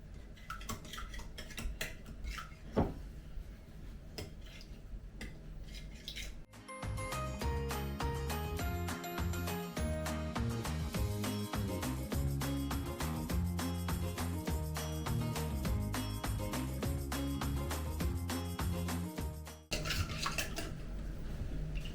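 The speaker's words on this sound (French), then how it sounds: "Tu mélanges les œufs?" Eggs being mixed in a bowl during home cooking with a small child. Light clicks of a utensil come first, then a long stretch of dense, steady clattering and ringing against the bowl, with no one speaking.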